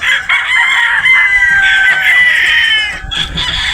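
Boston pullet chickens on a game farm in Batangas cluck and crow loudly and close by, a busy chorus of overlapping calls with no talk.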